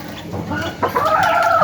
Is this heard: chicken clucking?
yes